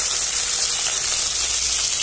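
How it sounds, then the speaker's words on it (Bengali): Fish frying in a pan in a home kitchen, a loud, steady, close sizzle with a constant hiss. "এখানে মাছ ভাজা হচ্ছে"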